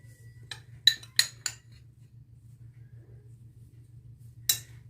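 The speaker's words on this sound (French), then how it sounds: "je mets moi 2 cuillères à soupe de graines de fenouil, habat hlawa, et de l'anis" A handful of sharp metallic spoon clinks against a bowl as spoonfuls of fennel seeds and anise go in, four quick taps close together then one more after a pause, over a low steady hum.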